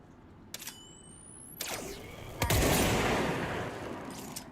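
The Pierce weapon firing in the video game Control, with a few separate sharp shots followed by a louder, sustained blast that rumbles and slowly fades.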